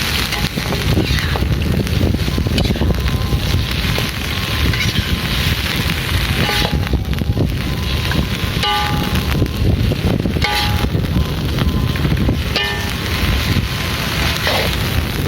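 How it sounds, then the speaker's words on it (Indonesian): Strong wind blows hard outdoors in a village setting ahead of coming rain, a loud continuous roar with buffeting on the microphone and a few faint clicks. "Kebetulan di sini anginnya kencang ya sobat."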